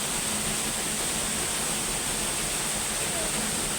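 A constant, loud rushing roar of a small waterfall, steady and unbroken, with no gaps or changes.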